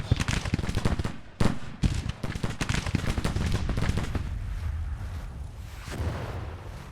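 Civil War rifles fire in a video game skirmish: rapid overlapping shots crack loudly at first, a heavy boom stands out, then the firing thins into scattered, more distant reports.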